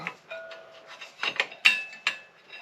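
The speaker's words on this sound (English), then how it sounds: "And we will separate this caliper." Halves of a Honda CB750 front brake caliper are pulled apart on a workbench, with short close metallic scrapes and clinks followed by a few sharp taps.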